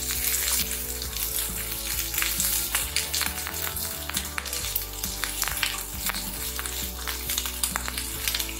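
A medium-sized chopped onion sautéing in a pan, sizzling loudly and continuously for several seconds with frequent crackles and occasional stirring.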